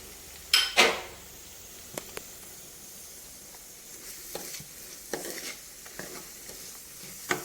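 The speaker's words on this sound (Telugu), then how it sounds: "ఇవన్నీ చక్కగా ఎర్రగా వేయించుకుందామండి." Green chillies, curry leaves and onions frying in oil for a Telugu tamarind and raw mango curry, a soft continuous sizzle broken by a loud stirring scrape near the start and several lighter clinks and scrapes after.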